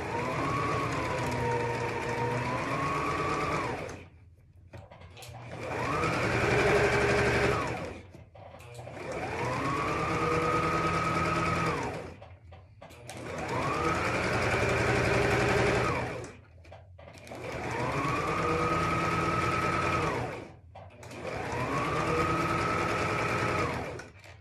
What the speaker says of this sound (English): I'm going to machine baste this